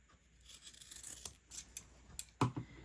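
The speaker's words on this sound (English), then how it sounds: "this part that you sewed on this side, you're going to trim" Scissors trimming sewn fabric for a bowl koozie, a few quiet close snips and crisp cuts, irregularly spaced, with the sharpest snip near the end.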